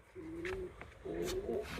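A tumbler pigeon coos close by in two soft, throaty phrases separated by a short pause, fairly faint against a quiet background.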